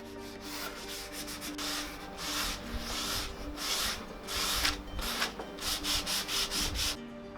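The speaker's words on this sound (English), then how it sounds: "we kind of use a mix of sandpaper and a card scraper." Sandpaper and a card scraper working the old finish off a laminated wooden tabletop, a steady rough rubbing and scraping in repeated strokes, close and fairly loud throughout with no voices.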